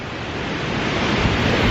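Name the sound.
ocean waves crashing on rocky shore, Cozumel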